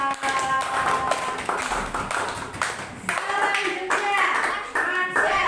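Students in a classroom clap their hands together, with sharp, uneven claps close by. Raised voices and chatter overlap the clapping the whole time.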